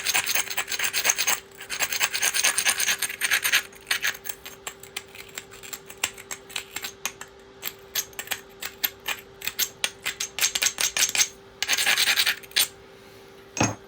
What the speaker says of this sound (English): we'll grind it